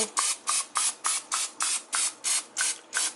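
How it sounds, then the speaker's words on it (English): Ten short, evenly spaced hissing bursts of canola cooking spray from an aerosol can onto a pan, close and fairly loud, with brief pauses between each spray. "First we're going to spray pan with some granola oil."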